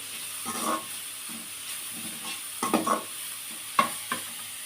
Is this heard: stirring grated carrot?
yes